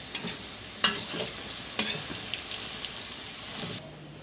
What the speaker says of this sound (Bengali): এবার ইলিশ মাছগুলো ভেজে নিব।